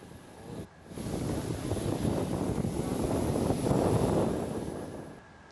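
The Indonesian presidential aircraft departs Adi Sucipto air base for Jakarta, a broad engine roar swelling after a short pause, holding loud and steady, then fading away near the end, heard from fairly close.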